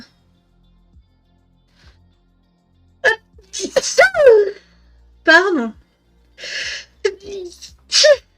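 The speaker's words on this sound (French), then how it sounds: "Quand j'éternue, c'est jamais une seule fois. Toujours 2 ou 3 fois." Several sharp sneezes burst out in quick succession, each with a short breathy intake, followed by a brief spoken word afterward.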